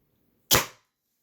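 A single sharp report from a Cyma M4 airsoft rifle firing a 0.20 gram BB, loud and close, with a quick decay and nothing else around it.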